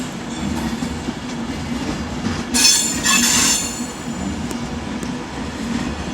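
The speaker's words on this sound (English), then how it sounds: "departing behind me should be the 1556 London Northwestern Railway service" A London Northwestern Railway service pulls out of London Euston on the West Coast Main Line, its steady rolling rumble rising into a loud burst of wheel squeal midway before settling back to the running noise.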